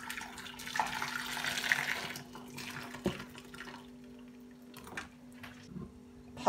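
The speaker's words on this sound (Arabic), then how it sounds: "بحط فوقها مي مغلي." Boiling water pours over tomatoes in a bowl, a gentle splashing stream that fades, followed by a few soft knocks and drips.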